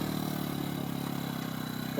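A small 98 cc motorcycle engine drives a hydraulic plough through a farm field, running with a steady, continuous mid-pitched drone and a fast regular pulse, close and fairly loud throughout.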